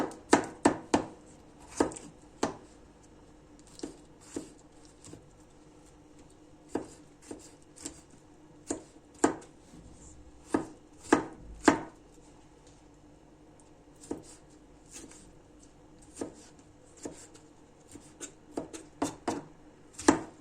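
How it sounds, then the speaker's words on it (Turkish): Knife chopping tomatoes finely on a board for menemen: sharp, irregular taps in quick clusters with short pauses, close and fairly quiet, no talking. "şimdi domateslerimi de minik minik doğrayacağım"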